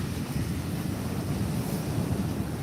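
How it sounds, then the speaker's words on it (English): Heavy surf breaking steadily onto a sandy beach at night near high tide, a continuous loud roar with wind buffeting the microphone and no clear separate wave crashes. "Those waves are crashing into the shore."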